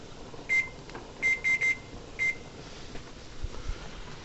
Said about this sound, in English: So, let's set that timer.